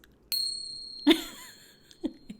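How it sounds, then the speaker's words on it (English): Nepalese chimes ring out bright and clear, struck once and then again with two more softer strikes, each tone lingering and fading in a quiet room. "So if you chose these, I think these are Nepalese chimes."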